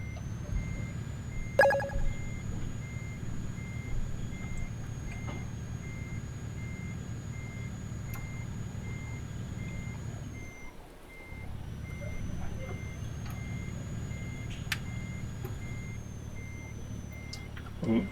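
A video game truck reverses out of a tunnel, its steady rapid reversing beeper sounding continuously over a low engine rumble, with a brief dip partway through.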